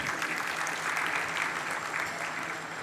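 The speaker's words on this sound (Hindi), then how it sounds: "और थाली ना हो तो ताली बज जाएगी।" An audience at a religious discourse claps together in steady, dense applause that holds at an even level throughout, sounding fairly close and full with no voices standing out.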